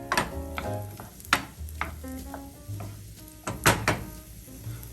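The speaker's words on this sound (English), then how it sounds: "we're going to saute some onions" Onions sautéing in a pan for street tacos, a steady low sizzle with stirring scrapes and a few sharp knocks of a utensil against the pan.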